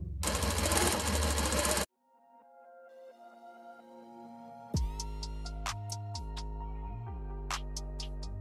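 A Reliable 2300SZ industrial sewing machine winds a bobbin, with a loud burst of motor whir at the start, a short lull, then a steady close mechanical hum and rhythmic stitching pulses through the rest.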